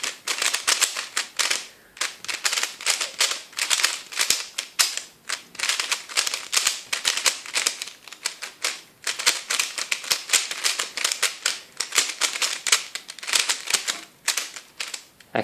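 A Yuxin 3x3 speed cube turned quickly through algorithms, giving sharp plastic snapping clicks in fast irregular bursts with brief pauses between, close and crisp throughout, with no voice.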